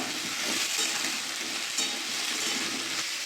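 Pieces of ash gourd being stirred into a hot frying pan, giving a steady, close sizzle with soft stirring scrapes throughout and no talking.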